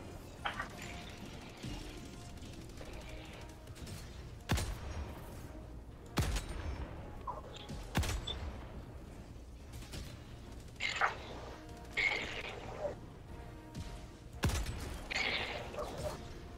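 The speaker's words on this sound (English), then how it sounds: "Nice EMP shots, by the way." Repeated sharp gunfire bursts and impacts from the video game Helldivers 2, EMP shots fired during a mission, punching out at irregular intervals over a steady background of game ambience and distant mechanical noise.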